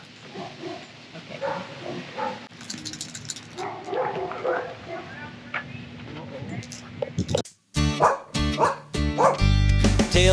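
A dog barks and yips in sharp, loud bursts during the last few seconds on a provincial park outing, after a stretch of quieter talk and background sound.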